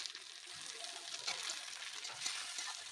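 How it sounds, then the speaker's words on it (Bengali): Tomatoes fry in hot oil with browned onions, a faint but steady crackling sizzle with light stirring sounds, no voices. "টমেটো দিয়ে হালকা করে ভেজে নিয়ে"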